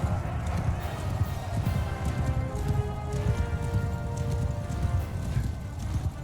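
Horse hooves clip-clop steadily in Mount & Blade II Bannerlord, a fast continuous run of hoofbeats heard at close range with ambient game sounds and someone speaking over it.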